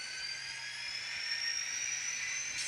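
A ScaleTrains N scale SD40-2 model locomotive running in notch 2 gives off a thin, high-pitched electric motor whine that holds steady and slowly rises in pitch. The whine is quiet, close and heard alone.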